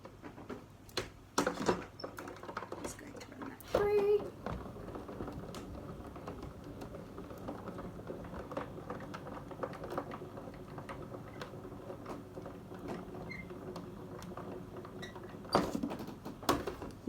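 A Kaszazz Ezy Press mini die-cutting machine with new pads runs steadily, giving soft intermittent clicks and ticks over a low continuous whir, close but quiet, with a few louder knocks near the start and end.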